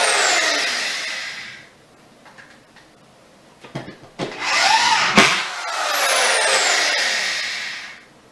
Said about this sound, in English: we'll screw it to the wall with this yellow drill